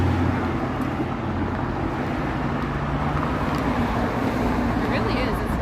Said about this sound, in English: It's really noisy here with all these cars.